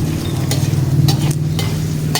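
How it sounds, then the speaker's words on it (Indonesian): Nasi goreng (fried rice) sizzles steadily in a pan, loud and close, with a low frying roar and occasional scraping clicks of a spatula stirring the rice. "Niki kula pun goreng saiki"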